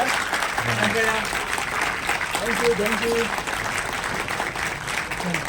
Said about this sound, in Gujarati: મિત્રો ખૂબ તાળીઓ થઈ જાય આપણા સૌ માટે